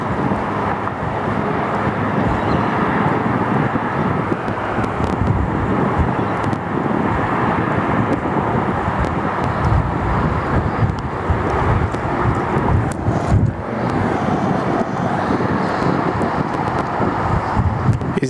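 A QantasLink Boeing 717 jet lands at Sydney Airport with a sustained, rumbling jet roar, loud and gusty with wind buffeting, continuing steadily without talk.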